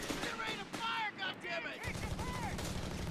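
Machine gun fire bursts and gunshots in Company of Heroes 3 battle, dense rattling fire with heavy low rumble of combat, voices talking throughout over the gunfire.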